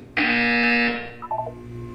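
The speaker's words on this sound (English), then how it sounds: "You will hear a buzzer. When you hear the buzzer, look up at the ceiling." A loud electronic buzzer in the Portal 2 video game sounds for about a second, followed by a short burst of fainter beeping tones.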